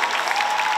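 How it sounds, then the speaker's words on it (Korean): Crowd applause at an outdoor stage greeting during a film festival, a brief continuous wash of clapping from a large audience with a faint steady tone underneath. "박수 한번 부탁드립니다."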